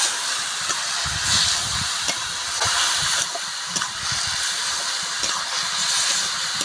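Bottle gourd sautéing in a pan with salt, turmeric and cumin powder for a village-style lau ghonto, giving a steady, close sizzle and hiss with faint stirring clatter throughout.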